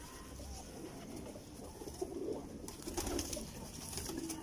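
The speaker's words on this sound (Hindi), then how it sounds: "कोने वाला टैडी कबूतर" Soft, low Teddy pigeon cooing repeats in short rolling phrases, close by, over a steady background hum and faint rustling.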